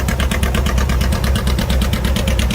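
A Case 930 tractor engine runs at a steam threshers parade in Rollag, Minnesota, a loud close rhythmic chug with fast regular firing pulses and a deep throbbing low end.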